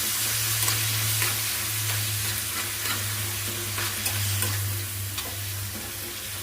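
Thin coconut slices fry in hot oil for a chutney, giving a continuous close sizzle with faint crackles and a low steady hum underneath, no voices.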